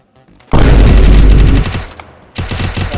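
Loud sustained automatic gunfire from a distant shooter in a battle royale video game, a dense roaring burst that cuts off and then resumes in a second rattling volley.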